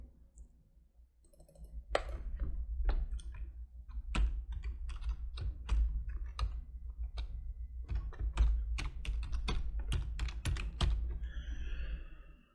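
Keys clack on a computer keyboard as a file name is typed, with irregular bursts of crisp taps and brief pauses between them, close and fairly quiet in an otherwise silent room.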